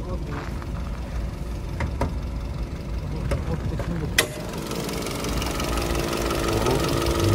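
A Mazda car idles with its hood open at a used-car market in Kyzylorda, a steady low engine hum with one sharp knock midway, while people talk nearby.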